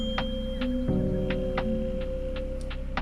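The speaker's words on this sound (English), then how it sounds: "So this is a tuning fork." A 528 Hz tuning fork rings with a sustained steady tone over a low hum, accompanied by repeated light ticking clicks at a regular pace.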